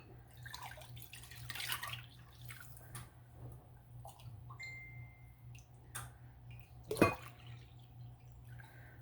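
Water is scooped out of a dye bath with small drips and trickles, soft splashes and a louder splash near the end, all over a low steady background hum.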